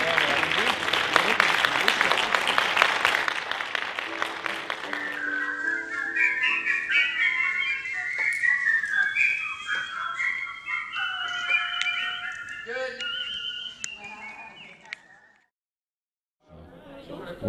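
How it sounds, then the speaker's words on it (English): Competitive whistling by Sean Lomax, men's grand champion of 2012, at a small whistling contest: a clear, sustained melodic whistle rising and gliding through several phrases, following a burst of crowd applause and cheering, then a short pause. "a small gathering of whistlers who were bonding over their common passion for what may seem like a silly thing to many, whistling"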